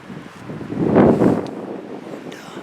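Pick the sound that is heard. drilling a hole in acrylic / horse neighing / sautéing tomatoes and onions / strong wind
strong wind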